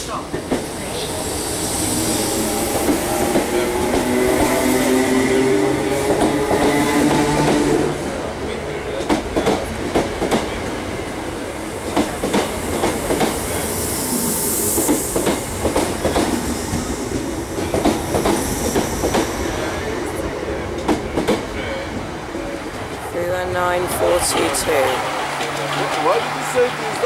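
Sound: Class 319 train passing through station without stopping

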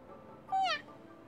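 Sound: cat meowing in a mobile video game

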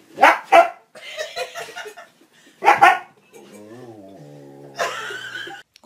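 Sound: dog hissing on the stairs

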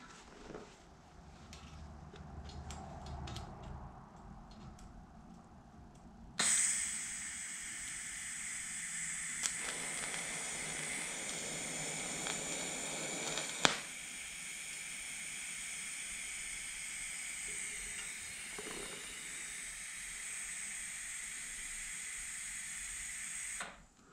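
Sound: welding the edge of a blade

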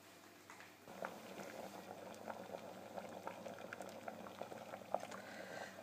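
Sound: lentils boiling in a pot over medium heat

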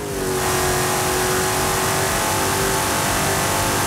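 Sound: engine-swapped car accelerating in video game Forza Horizon 5

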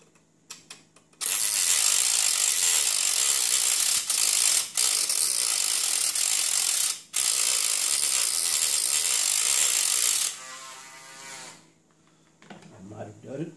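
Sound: cutting metal on a Meade LX90GPS telescope chassis

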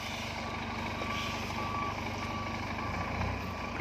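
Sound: Scania P410 truck reversing with reversing beeps

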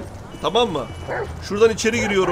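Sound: police dog barking in video game GTA 5

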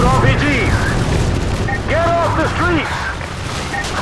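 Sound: video game gunfire, Call of Duty Modern Warfare 2

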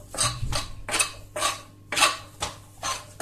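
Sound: chopping vegetables with a knife

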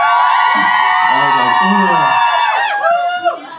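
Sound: concert audience cheering

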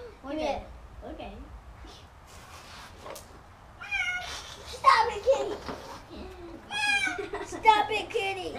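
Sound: cat meowing

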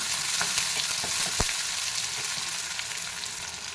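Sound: onion, curry leaves and dried chilies sautéing in oil

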